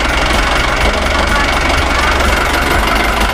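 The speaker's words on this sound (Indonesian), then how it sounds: "Setelah pompa hidrolik mati, maka kita mematikan mesin kendaraan." Engine of a mobile emergency water treatment vehicle running at idle, a loud, steady, continuous rumble with a dense rattling texture throughout.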